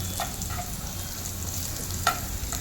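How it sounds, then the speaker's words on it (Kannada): Chopped onions and green chillies frying in a pan, a soft continuous sizzle with occasional light scrapes of a spatula stirring, close and alone. "ಚೆನ್ನಾಗಿ ಸ್ವಲ್ಪ ಈರುಳ್ಳಿ, ಹಸಿಮೆಣ್ಸಿನ್ಕಾಯಿ ಅದು ಸ್ವಲ್ಪ ಕಂದು ಬಣ್ಣ ಥರ ಸ್ವಲ್ಪ ರೋಸ್ಟ್ ಆಗಬೇಕು."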